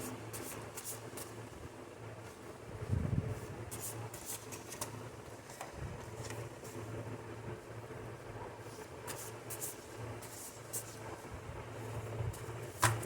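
Thin tarot cards are shuffled by hand in soft, irregular riffling bursts against a faint background hum, quiet and close throughout.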